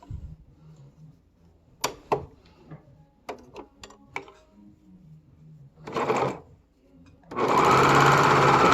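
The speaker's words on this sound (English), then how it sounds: "Sewing" A sewing machine stitches a fabric seam for thumbholes in short bursts, then ends in one long, loud run of steady, buzzing stitching.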